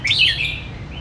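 Rare pet birds in a Vietnamese collector's collection chirp in a quick, bright burst of tweets, fairly loud and close, fading into a softer trailing call.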